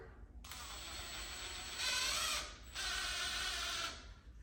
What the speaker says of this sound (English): I'm going to take one of my 4-inch screws that I'm ultimately going to use, and I'm going to start them through here